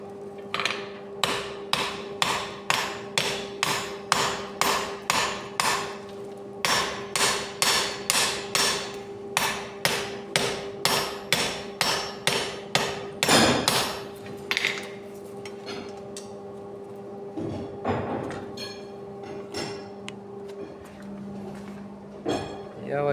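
A rapid run of ringing hammer blows on heated metal being forged for hardening and tempering, close and loud, then scattered knocks and clanks with a low steady hum beneath.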